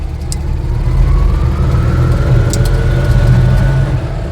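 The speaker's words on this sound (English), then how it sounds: "Has an air-cooled flat twin engine, 493cc, CVT belt drive" A 1972 Invacar with an air-cooled 493cc flat-twin engine and CVT belt drive climbing a mountain road, a loud, close, steady buzzing drone with a slowly rising whine and no voices.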